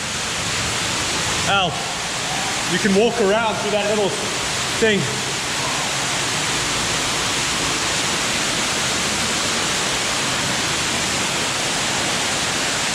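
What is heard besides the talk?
waterfall in Yorkshire Dales cave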